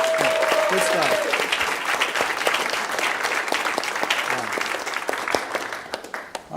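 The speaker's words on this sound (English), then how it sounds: "let's give them a round of applause also" Conference audience applauding a pair of presenters, a dense sustained clapping that fills the room for several seconds, gradually thinning toward the end, with a brief voice near the start.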